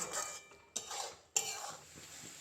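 Chickpea flour bits stirred in thickening sugar syrup in a pan for motichoor laddoo, quiet sticky scraping with two sharp clinks of the utensil against the metal, close and faint, no talking.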